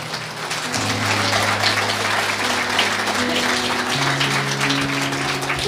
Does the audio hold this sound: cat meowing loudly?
no